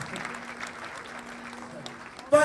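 Audience at a children's awards ceremony clapping, a moderate spread of applause under a faint amplified voice, ending with a sudden louder burst of sound.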